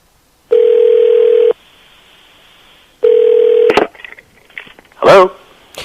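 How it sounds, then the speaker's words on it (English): Telephone tones on a call line: two steady, loud one-second tones about two seconds apart, followed by brief clicks and then a voice answering. "Maybe I should give him a call."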